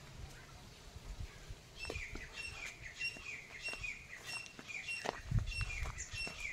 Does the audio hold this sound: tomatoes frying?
no